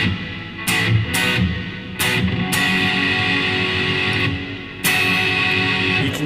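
Full strummed chords on an electric guitar from a song, several loud chords rung out in turn, each sustaining and ringing into the next, with no voices.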